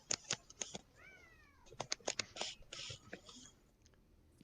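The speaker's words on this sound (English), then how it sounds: "Are you guys hearing cats in the chat?" A cat gives a short, faint meow partway through, amid a scatter of sharp clicks and taps close by, with no talking.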